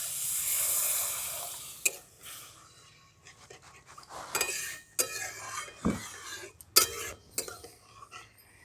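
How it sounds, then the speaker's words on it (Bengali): Semolina is stirred in a pan with a spoon, giving intermittent scraping and clinking strokes that come close and fairly loud. Quiet pauses fall between the bursts of stirring. "সুজিটাকে হালকা করে আমি একটু নেড়ে নিচ্ছি।"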